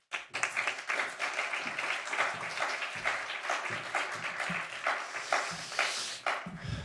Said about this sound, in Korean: 우리 목사님 나오실 때 박수로 환영하도록 하겠습니다.